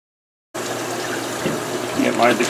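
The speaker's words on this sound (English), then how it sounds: "filling back up the tanks" Water pours steadily into an aquarium tank in a fish room, starting abruptly and continuing as a loud, close rushing flow that swells slightly near the end.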